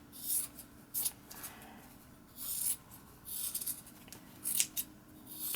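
A pair of sewing scissors snips in short bursts around the edge of a wool fabric patch, close and crisp with quiet pauses between cuts.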